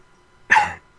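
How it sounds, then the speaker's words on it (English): A single short, sharp cough from a person at a card game table, close and alone after near silence, with the start of another cough cut off at the end. "I'm over here coughing and everything."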